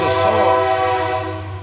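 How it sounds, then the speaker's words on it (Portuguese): A train horn blows one steady, loud, sustained tone that holds for the whole short stretch. "só o trem apitar aqui rapidinho"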